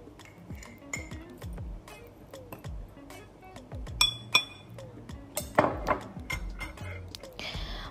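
A metal spoon taps and clinks against glasses as sugar is added for a solubility experiment: scattered light ticks, then sharper ringing clinks near the end, close and fairly quiet, with faint soft voices.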